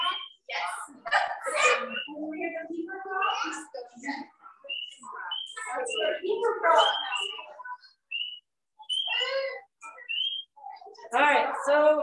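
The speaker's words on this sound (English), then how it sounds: "this was the frog call. It's just called frog call. It's an app." A spring peeper frog call played from a phone app, heard as dense repeated high chirping peeps in clusters, loud and close, broken by short pauses.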